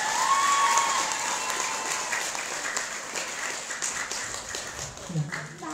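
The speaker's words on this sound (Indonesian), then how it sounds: "Tepuk tangan dong." Audience applause at a closing event for a waste-processing programme at a pesantren dormitory, a moderate ripple of clapping that gradually thins, with a brief whistle-like tone early and some voices mixed in.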